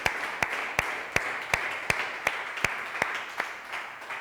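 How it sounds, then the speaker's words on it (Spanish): Sparse, rhythmic clapping in a church congregation during an evangelical service, about a dozen evenly spaced claps over a steady background hiss, fairly distant and moderate in level. "Den un aplauso a Él, a toda esta tierra."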